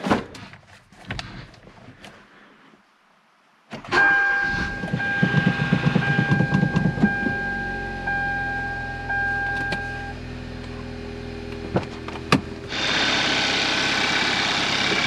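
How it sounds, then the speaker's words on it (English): A Hyundai Veloster Turbo engine, with a replaced turbo kit, cranks with a few clicks, catches, and settles into a steady idle with a whine; the engine note rises near the end. "So let's give it a start and see how she runs."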